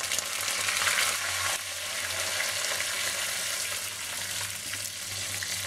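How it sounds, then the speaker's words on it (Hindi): Sesame seeds and curry leaves sizzle and crackle steadily in hot oil on a low flame, a dense close hiss with a brief louder burst early on, no voices. "जब तड़कने लग जाएगी तो यहाँ पर मैं 1 चम्मच तिल डालूंगी"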